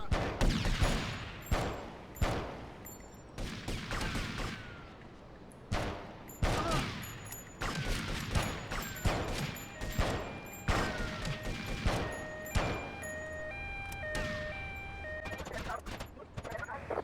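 Pistol shots fired at gang members in GTA Vice City ring out in irregular bursts of sharp reports, some single and some in quick clusters, over game effects and a voice talking.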